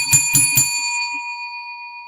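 A bell is struck three times in quick succession, and its bright metallic tone rings on and slowly fades for about two seconds.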